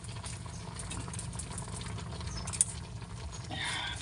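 A pot of sardine soup with bitter gourd leaves bubbles at a steady low simmer, a soft continuous rumbling patter with a brief click near the end and a slightly brighter hiss toward the close.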